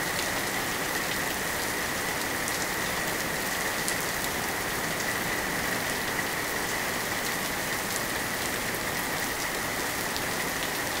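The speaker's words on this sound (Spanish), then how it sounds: "Le estamos enseñando a Sebastián lo que es la lluvia." Steady rain falls and patters on a surface outdoors, forming a continuous, even hiss for the whole stretch with no voices.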